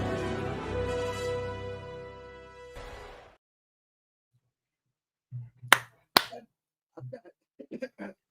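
A 'Joe Henry clap' during a live WWE NXT watch-along stream: two sharp, close hand claps in quick succession. They follow a sustained tone that fades into silence, and a few softer sounds come after.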